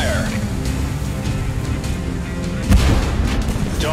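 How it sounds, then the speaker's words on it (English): Rapid gunfire and booming blasts from a tank combat video game crackle over a rumbling engine-like background, with a louder thump partway through. "We are under gunfire."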